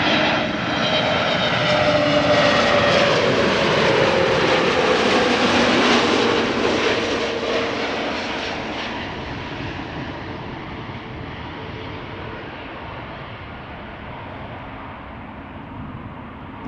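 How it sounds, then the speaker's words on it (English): A KM Malta Airbus A320neo arrives at Amsterdam Schiphol, its engines making a loud, close roar with a descending whine. The sound peaks early, then fades gradually as the jet passes and moves away. "KM Malta, arriving from Malta. It's an A320neo"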